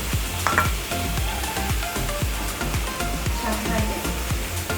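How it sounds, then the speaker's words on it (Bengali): Hilsa fish masala frying in a pan as greens go in: a steady loud sizzle with repeated scraping stir strokes in a quick, uneven rhythm, heard up close. "আমার মাছ সহ মশলাটা কষানো শেষ হয়ে গেছে এখন আমি শাকটা দিয়ে দেবো"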